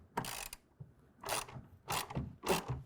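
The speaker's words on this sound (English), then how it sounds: "grab a 1/2-inch wrench or ratchet and go ahead and tighten that down" A ratchet tightens a clamp bolt on a Gator FX hard folding tonneau cover fitted to a 2024 GMC Sierra 1500, with four separate bursts of clicking strokes, close and fairly quiet.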